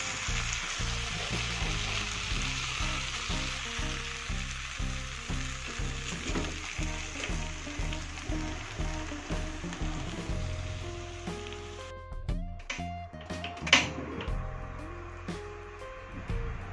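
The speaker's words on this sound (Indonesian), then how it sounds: "Minyaknya sudah panas, jadi sekarang kita masukkan ayam kalasannya." Pre-cooked ayam kalasan chicken crackles and sizzles in hot oil, a continuous close-up frying hiss with a few clattering knocks near the end.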